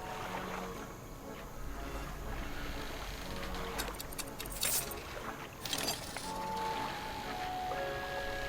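A boat's hydrojet engine in the video game Dredge churns over water with a steady broad rush, joined by splashes and brief metallic clinks, and game music tones surface near the end.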